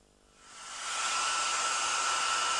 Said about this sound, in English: is that my hairdryer you're using?